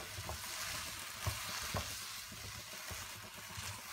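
Diced apple stir-fried in melted sugar syrup in a pan, a steady close bubbling sizzle with a few soft scrapes and knocks of the spatula, no talking.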